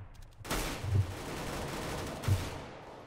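Sniper rifle shots in the shooter game CS:GO: two sharp, loud cracks about a second apart over a brief burst of noise, with no talking.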